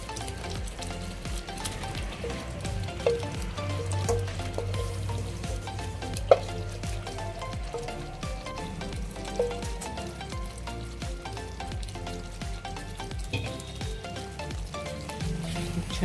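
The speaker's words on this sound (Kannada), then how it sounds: "ಈಗ ನಾವು ಫ್ರೈ ಮಾಡಿ ಇಟ್ಕೊಂಡಿರೋವಂಥ ಮಶ್ರೂಮ್ ಹಾಕ್ತಾ ಇದ್ದೀನಿ." Fried mushrooms sizzle in a pan of tikka masala, a steady close crackling fry with scattered pops and occasional stirring scrapes, no voices.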